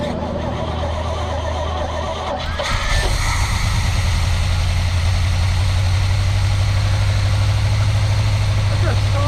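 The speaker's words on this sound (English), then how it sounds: "That's a solid engine." Old truck engine, just revived, idling steadily and loudly after a brief start-up surge, with a deep continuous rumble close by and voices faintly over it.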